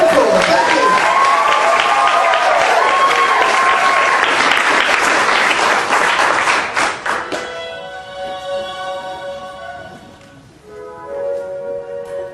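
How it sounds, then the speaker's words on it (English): A theatre audience at a cabaret applauds a West Side Story scene, dense loud clapping for about seven seconds that then fades while piano music begins underneath. "Give them a big round of applause."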